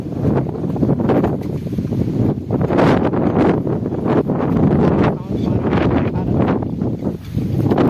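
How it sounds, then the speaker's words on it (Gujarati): Strong wind in a Gujarati village roars and buffets the microphone in heavy, surging gusts, rising and falling over several seconds. "આ પવન જો, એવડો બધો પવન"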